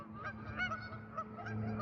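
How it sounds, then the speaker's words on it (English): Birds honking outdoors, goose-like calls repeating in short bursts at moderate distance over a low steady background hum. "These bitch ass birds, bro."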